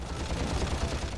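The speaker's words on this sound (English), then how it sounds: "Such a good sound for the blaster too." Rapid, continuous blaster fire in Ratchet & Clank 3, a dense stream of punchy shots with no pauses, fairly loud and close.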